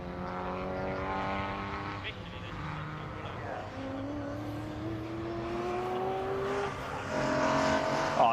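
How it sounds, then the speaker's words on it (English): BCV8 championship race cars roar past on the circuit, with loud, sustained engine notes that rise and fall as they pass close by. A commentator talks over the engines. "listen to the roar of these cars"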